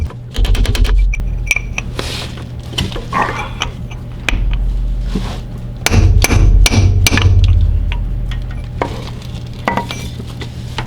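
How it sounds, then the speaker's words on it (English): A big hammer strikes a chisel against the CV axle of a Lexus LX470 / 100 Series Land Cruiser, giving a rapid run of loud, sharp metallic blows, then several more heavy hits in irregular bursts. "smack it right here with a chisel and your biggest hammer."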